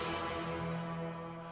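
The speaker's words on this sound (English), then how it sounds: "It's more like a horn." An unprocessed horn sample from a beat maker's library, a steady sustained brassy tone with a rich harmonic stack, played alone at moderate level for the whole stretch.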